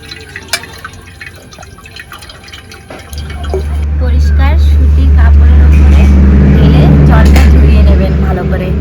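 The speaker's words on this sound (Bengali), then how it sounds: "ছানা থেকে জলটা ভালো করে ঝরিয়ে নেব" Water pours and drains from lemon-curdled chhana (fresh cheese curds) in a kitchen, a loud steady rushing flow that swells in after a few quiet seconds and continues to the end.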